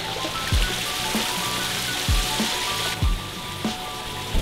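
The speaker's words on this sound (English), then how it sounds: "if you're wondering what all the noise is, it's because you're inside a fountain" Constant splashing water falls in a dense hiss from inside a fountain in the video game Punch A Bunch, with periodic low thumps and droplets pattering nearby.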